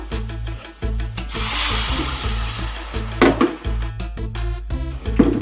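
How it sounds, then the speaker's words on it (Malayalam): Kudampuli tamarind water poured into hot frying masala for a Kottayam-style Kerala fish curry, hitting the pan with a loud, sustained sizzle and hiss amid stirring and utensil clatter, no talk. "ഇനി നമ്മൾ നേരത്തെ എടുത്തു വെച്ച കുടംപുളി വെള്ളത്തിലിട്ട് അത് ഒഴിച്ചു കൊടുക്കാം."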